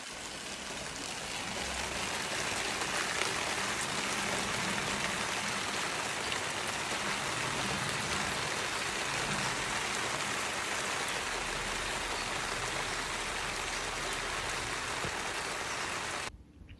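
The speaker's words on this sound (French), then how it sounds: "il y a une grosse averse" Heavy rain shower pouring down outdoors, a dense, steady hiss of drops on surfaces that rises quickly after the first second and holds evenly throughout, with no voices.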